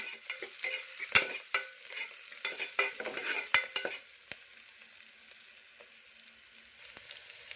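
Vegetables mixed with turmeric are stirred in a hot pan, with brisk close scraping and clinks of a spoon over a soft sizzle, busy at first, then easing to a quieter fry with occasional strokes.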